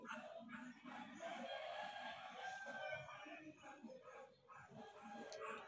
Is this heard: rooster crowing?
yes